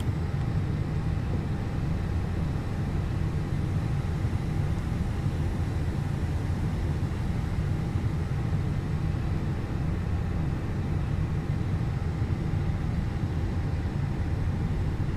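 Engine number 1 of an Airbus A320 starting up in Microsoft Flight Simulator, giving a steady, even broadband roar that holds at one level without any noticeable rise or fall.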